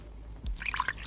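Hot water pours from a flask in a brief, faint splash and trickle, a soft liquid sound under a quiet room background.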